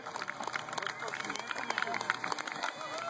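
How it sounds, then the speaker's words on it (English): Spectators at the Cooke Dam stop of the AuSable Canoe Marathon applaud and cheer passing canoe racers, a busy outdoor crowd with clapping mixed with voices and shouts. "Crowd is giving them a nice hand."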